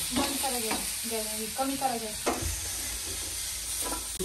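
Sliced onion with garlic frying to a pinkish-red in a pan over a wood-fired chulha for Satara-style chicken rassa, a steady sizzle running throughout, with a few short tonal chirps and knocks rising over it in the first half.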